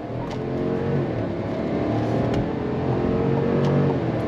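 A 2022 Chevrolet Silverado High Country pickup in rear-wheel drive accelerates on throttle, heard from inside the cab as a strong, steady engine drone with no talking.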